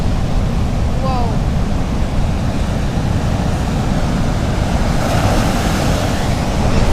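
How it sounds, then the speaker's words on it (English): Ocean waves crash steadily onto a rocky South West Western Australian beach while wind buffets the microphone, a loud continuous roar of surf throughout, with a faint bird call near the start. "I hope you can hear it actually over the crashing of the waves and the wind"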